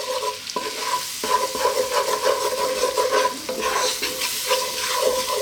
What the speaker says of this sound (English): I just want to cook this flour out in that butter and all of those other lovely juices that we have